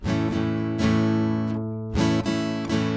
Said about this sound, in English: So that's down, up, up.